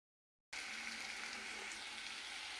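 Maggi masala mixture sizzles steadily in a hot pan while being stirred for homemade Maggi noodles, a dense, even frying hiss that starts abruptly after a brief silence and holds at a constant level.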